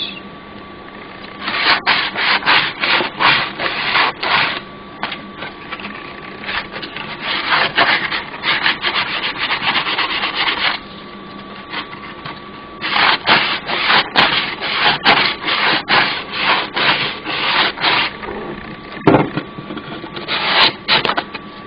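A wooden screen bezel for a Corvex64 sanded by hand with sandpaper, loud steady back-and-forth rasping strokes in long runs with brief pauses, close up and with no talk.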